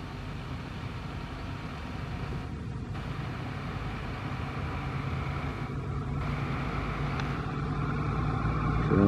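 Double diesel locomotives approaching, their engines rumbling like a big truck: a deep, steady roar that grows gradually louder and closer over the whole stretch, with no talking.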